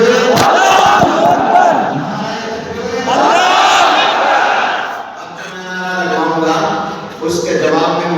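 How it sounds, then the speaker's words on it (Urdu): A large crowd at a religious gathering roars the Takbir response, Allahu Akbar, in loud sustained waves of massed voices, with several rising swells one after another. "نعرہ تکبیر، اللہ اکبر"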